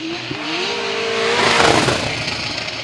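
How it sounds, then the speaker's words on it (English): A drift car engine at qualifying for a 2018 Atlanta drift event bouncing off the rev limiter in an on-off stutter, its tone holding steady and then breaking up into loud, harsh roaring, with no talk over it. "you can hear it just hitting that rev limiter"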